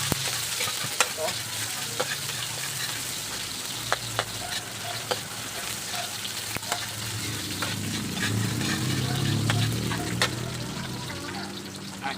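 Onions sauté for pancit in a hot pan, a steady sizzle with clicks of stirring utensil strikes throughout, close and moderately loud, with no talk over it.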